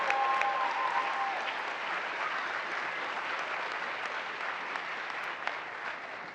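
Sustained audience applause at a NASA astronaut class graduation ceremony, a dense, even wash of many hands clapping that slowly eases off, with a few scattered louder claps near the end.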